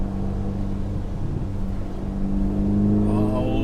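A Ferrari Portofino M drives along a road, its engine note steady and loud from inside the car, rising slightly toward the end with continuous road and wind rumble beneath.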